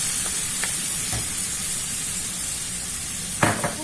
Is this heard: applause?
no